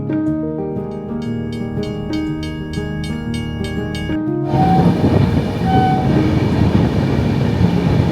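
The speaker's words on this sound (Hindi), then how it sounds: "इसी प्लेटफॉर्म नंबर 1 पर वो ट्रेन आएगी" A train pulls into a railway station at platform number 1. A chime or announcement tone rings at first, then the loud, close rumble and rattle of the rolling train takes over and keeps going.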